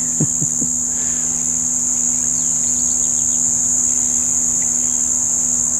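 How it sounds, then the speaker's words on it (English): A steady, loud high-pitched insect drone persists throughout, with a few faint chirps and low clicks near the start. "The cricket, isn't it? It's very noisy."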